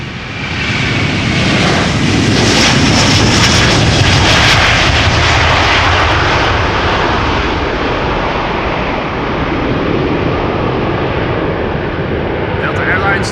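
A Delta Airlines jet takes off from Schiphol's Polderbaan bound for Detroit, its engines a loud, sustained broadband roar that swells and holds for the whole stretch. A voice talks faintly beneath it.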